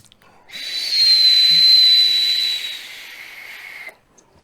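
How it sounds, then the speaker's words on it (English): A Heracles vaporizer gives a thin, steady high whistle with airy hiss that holds for about three seconds, then fades and cuts off. "you guys want to hear the whistle from the Heracles?"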